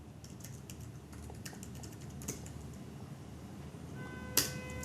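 Quick, fairly faint typing on a computer keyboard while entering code, a run of light irregular key clicks with one sharper tap near the end, no talking.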